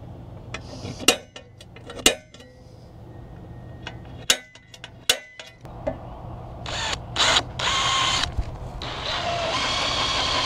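A drill bores slowly into a metal bike rack, with sharp clinks and taps at intervals, then a sustained grinding drill run near the end, close and fairly loud.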